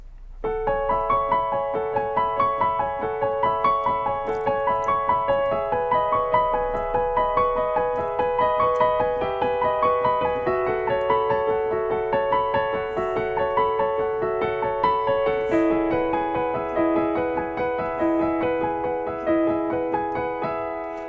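Solo piano plays an intro, a steady stream of repeated chords and arpeggiated notes with a flowing melody on top, moderately loud and close, with no talking.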